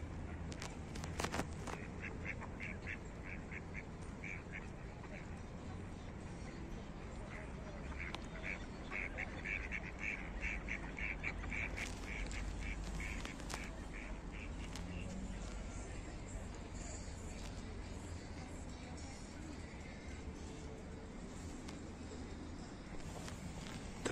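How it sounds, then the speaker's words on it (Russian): Ducks quack intermittently at a distance on the Veselka river in Victory Park, Belgorod, over a steady outdoor wash of water and background noise, with occasional footsteps nearby. "Такие плавают утки в парке Победы на речке Веселка."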